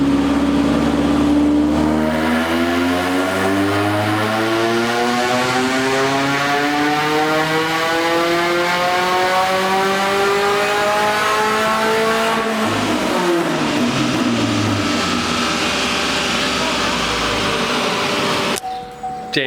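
Volvo V70R engine revving repeatedly during a quick tuning run, the pitch climbing steadily through the revs, dropping, then rising again, loud and continuous with no one speaking.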